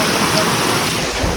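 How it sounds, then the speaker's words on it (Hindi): Steady loud rushing roar of a waterfall plunging down a hillside at Amarkantak, broadband and continuous at close range with no pauses. "देखा ये झरना है"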